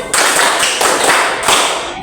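A classroom group claps together in a rhythmic Indonesian clap game, with several loud, sharp bursts of clapping in quick succession.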